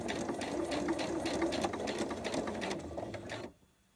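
A sewing machine runs steadily while stitching through layers of fabric, a close, dense whirring rattle of fast needle strokes that stops abruptly near the end, leaving near silence.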